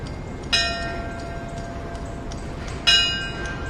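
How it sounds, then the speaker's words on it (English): Two loud strikes of a memorial bell at a September 11 remembrance ceremony in Nashville, about two seconds apart, each ringing out with a long, slowly fading metallic tone over steady background noise. "The bell rang 11 times to remember the first flight that flew into the Twin Towers"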